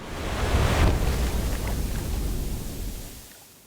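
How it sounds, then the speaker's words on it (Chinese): Ocean waves recede from a shore in a broad, soft wash of surf that swells briefly and then slowly fades away, steady and moderately quiet with wind-like hiss and no voices. "海浪退去的环境音效在这就会舒缓很多，感觉时间在慢慢流动"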